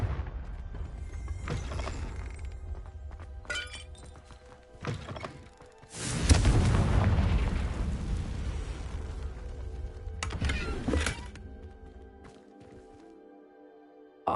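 In the Hogwarts Legacy video game, a Confringo spell detonates with a sudden booming burst and crackling rumble that fades away, set among other magical whooshes and thuds.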